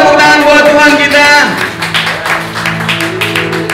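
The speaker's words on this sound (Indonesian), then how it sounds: "Boleh kasih tepuk tangan buat Tuhan kita." An elderly church congregation claps its hands at a worship service, a rhythmic patter of many hands that starts under singing and music, which then fades into sustained tones.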